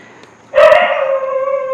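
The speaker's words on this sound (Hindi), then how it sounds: "कुत्ता तो ऐसा लग रहा है जैसे मेरे घर ही में भौंक रहा हो" A dog barks once up close and loudly, then draws the bark out into a long, wavering howl that carries on alone until the end.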